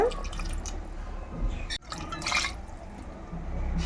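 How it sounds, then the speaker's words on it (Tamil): Water poured into a pot of mutton potato kurma, a soft continuous liquid splash and trickle close by, fairly quiet, with a brief break midway and no speech. "அப்புறம் கொஞ்சமாக வந்து நான் இதில் தண்ணி ஆட் பண்ணுறேன்"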